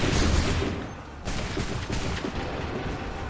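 Volleys of musket gunfire in the video game Assassin's Creed 3, a dense crackling burst of massed shots at the start followed by further rolling volleys, loud and sustained with no speech.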